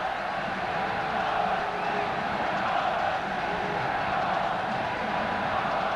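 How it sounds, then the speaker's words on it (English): Huge football crowd at Sparta Stadium in Prague for a Czechoslovakia World Cup qualifier, a constant dense roar of massed voices, distant and steady throughout. "the Czech crowd, this huge crowd in the Sparta Stadium"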